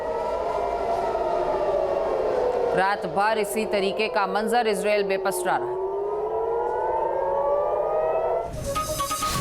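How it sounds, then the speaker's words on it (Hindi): Air raid sirens wail across Tel Aviv, Israel, their rising and falling tones sweeping on and on while someone narrates over them in Hindi. "लगातार वहां पर सायरन बजते रहे"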